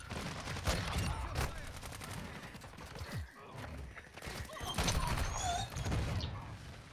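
Rapid video game gunfire crackles in bursts, with thuds in between, while players talk over the shooting.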